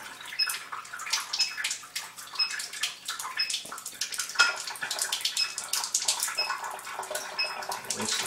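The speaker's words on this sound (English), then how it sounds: "I'm going to collect some of this acid water here at the strong setting" Acidic water on the strong setting streams from a Chanson Miracle PL-B702 water ionizer into a container, a steady splashing pour with faint drips throughout.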